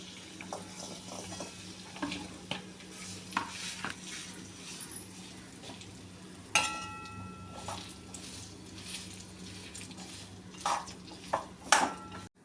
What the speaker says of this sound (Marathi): तुपावर आपण खजूर आता परतून घेऊया